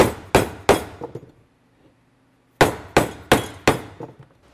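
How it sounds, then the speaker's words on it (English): A dead blow hammer taps two halves of a BionX e-bike hub motor together: three sharp close knocks, a short pause, then four more evenly spaced blows, each ringing off briefly. "tap the two halves together. We can do that just with the dead blow hammer."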